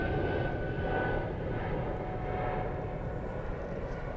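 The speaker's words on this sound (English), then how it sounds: "We'll go for the King of the Skies, A380." An Airbus A380 airliner taxiing at Zurich airport gives a steady, loud broadband jet roar with a faint whine on top, continuous and unbroken throughout.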